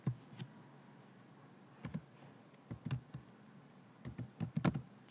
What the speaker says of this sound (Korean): 장미라고 입력합니다.